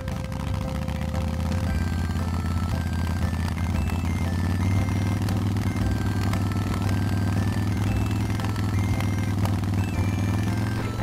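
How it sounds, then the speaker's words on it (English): A red toy motorcycle gives off a continuous engine rumble, close and steady, with a low droning tone that shifts slightly in pitch, and faint clattering above it throughout. "It's a red motorcycle!"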